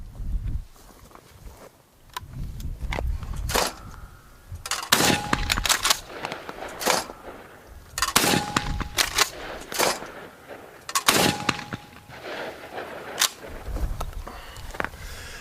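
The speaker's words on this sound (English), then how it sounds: "So we're going to do some shooting." Shots from a Winchester SXP and a Stoeger P350 shotgun ring out outdoors, loud sharp blasts spaced a few seconds apart, with pump-action clacks and handling noises in between.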